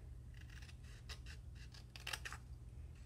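Scissors snip through material while little baskets are being made, a quiet run of short, crisp cuts coming in small clusters with brief pauses between them, close by and faint, with no talking.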